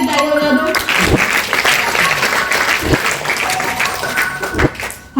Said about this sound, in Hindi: इनके लिए ताली बजा दो।